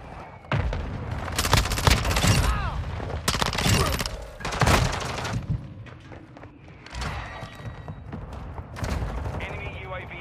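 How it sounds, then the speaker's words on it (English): Video game battle with heavy booms, thuds and gunfire bursts from a mortar strike hitting the field, loud impacts in clusters early on then scattered shots, with game voice lines and talk over it. "Friendly mortar strike inbound."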